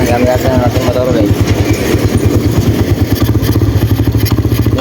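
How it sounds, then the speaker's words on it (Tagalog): A motorcycle engine runs close by, its steady rapid putter holding an even rhythm throughout, while a voice talks over the start. "Gamit natin ang ating motor ulit."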